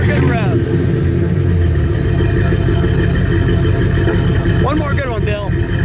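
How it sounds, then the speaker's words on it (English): A yellow 1967 Oldsmobile 442 W-30 V8 rumbles loud and close, revved hard with sweeping pitch rises at the start and again near the end, while people talk over the idle between revs. "One more good rev."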